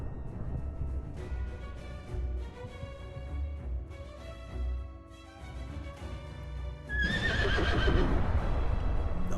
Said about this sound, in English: Now that's a horse.